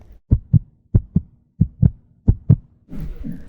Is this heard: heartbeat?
yes